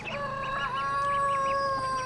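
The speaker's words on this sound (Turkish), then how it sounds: "Bunlar Pekin ördeklerimiz." Pekin ducks give short, repeated calls nearby over a steady tonal hum in the background.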